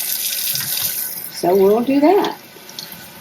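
Tap water runs into a sink while salted vegetables are drained and rinsed, a steady splashing stream under a person talking briefly.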